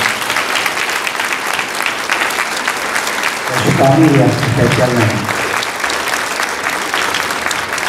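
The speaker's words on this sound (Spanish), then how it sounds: "podemos brindarle un aplauso a todas" Audience applause at the opening ceremony of a science and technology fair, a dense steady clatter of many hands running through the whole stretch while someone speaks over it partway through.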